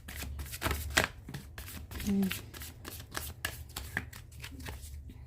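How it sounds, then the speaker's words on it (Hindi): A deck of tarot cards is shuffled by hand up close in a series of quick, crisp riffles and flutters, repeating rhythmically throughout. "one more shuffle angels and last shuffle"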